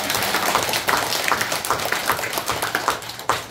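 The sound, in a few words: applause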